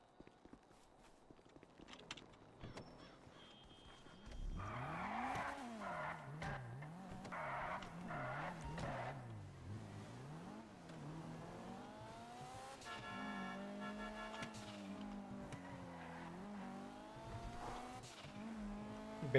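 Batman's car in GTA 5 Online revs and drives with a wavering engine tone, tires squealing in repeated skids, moderately loud and without speech.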